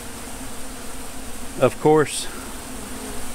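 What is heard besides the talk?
yellow jackets and honey bees buzzing around a feeder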